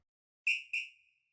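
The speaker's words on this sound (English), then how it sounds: "And then the second part, I've got the whistle." A synth whistle plays two short bright tones in quick succession, the second trailing off into a thin fading tail, with silence before and after.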